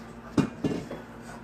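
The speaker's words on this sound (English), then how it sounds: "So what Jacqueline is doing right now is she is chopping the tomatoes" Tomatoes being chopped on a board by a chef during a catering cooking demo, two sharp knife thuds close together followed by a fainter tap, with quiet kitchen room tone between.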